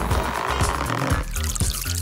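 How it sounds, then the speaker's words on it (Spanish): Paint splashed and poured into water, a wet, continuous sloshing and trickling with soft dripping accents, fairly close and loud throughout. "Salpicaré la pintura en el agua"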